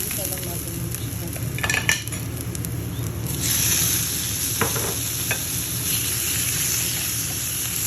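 Garlic and chicken fry in a pan with a continuous soft sizzle, broken by occasional clinks and scrapes of a utensil stirring against the metal.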